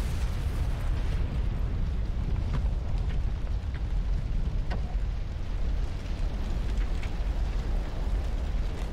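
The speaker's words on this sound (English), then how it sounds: "He's so used to explosion, Chris didn't even care." Continuous rumbling explosions and bursts from the video game Resident Evil 6, dense and loud throughout, with no talking.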